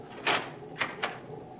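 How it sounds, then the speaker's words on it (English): A door is locked in an old-time radio drama: a soft scraping slide followed by two quick clicks, close and fairly quiet. "You may lock the door now."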